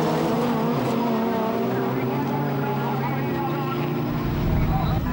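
Rallycross cars race and spin, their engines droning in a steady, dense roar that swells slightly near the end, with a voice talking over the racket.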